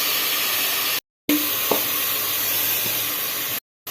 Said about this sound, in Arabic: حنضيف الملعقه الكبيره تاع طماطم مصبره، ندير لها شويه نديرها تقلى مع هاد البصل